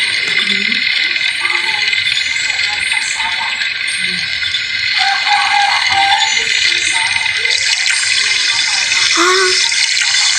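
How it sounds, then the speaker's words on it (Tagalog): Water runs from a kitchen tap in a steady, bright hiss throughout, with faint clatter and muffled background voices underneath. "Bakit ito yung ating tubig ng gripo?"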